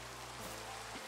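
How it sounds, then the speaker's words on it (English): Steady rain falls in Minecraft, a soft continuous hiss of drops that stays even and fairly quiet throughout, with no voices. "Oh god, of course it's raining."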